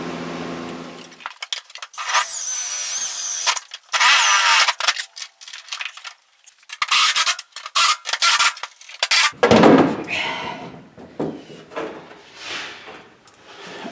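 A power drill drives self-tapping screws into a Chevrolet C-10 truck cab in short bursts, its motor revving up and winding down several times, with brief scraping and rattling between runs, close by.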